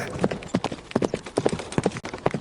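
A horse galloping, hooves beating a fast, close clip-clop rhythm in quick repeated groups of strikes over a couple of seconds, with no talking.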